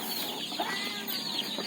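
Chickens clucking at feeding time in a farmyard, a few soft, scattered clucks over a steady background hiss, faint and somewhat distant.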